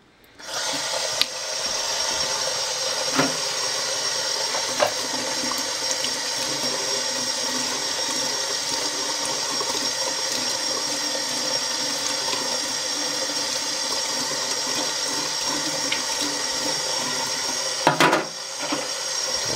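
Warm water runs steadily from a tap while knives are lightly rubbed with the soft side of a sponge, a continuous close hiss with faint occasional clinks and a brief clatter near the end.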